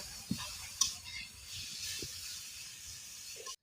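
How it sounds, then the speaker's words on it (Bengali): Boiled Malabar spinach from a home garden being stirred in a frying pan, a steady soft sizzle and hiss with a few sharp clinks of the spatula against the pan. "এবার আমি শাকগুলো দুই মিনিট ধরে নেড়ে নিব"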